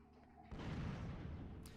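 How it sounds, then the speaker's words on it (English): A burst of green explosions in the Ratchet and Clank video game, a sudden broadband blast that rumbles and hisses for about a second, fairly quiet overall and followed by a brief high crackle. "As you can see, we get some nice little green explosions."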